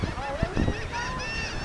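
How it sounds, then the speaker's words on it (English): Seagulls calling at a beach, a few harsh honking cries in quick succession at moderate distance over a steady outdoor background, with no talk. "Seagulls."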